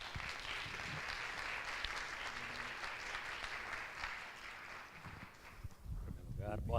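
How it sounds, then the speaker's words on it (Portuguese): Audience applause at a literary festival panel in a hall, steady crowd clapping that fills the clip, with some voices mixed in and a voice starting to speak near the end. "Aplausos para o Gustavo, por favor."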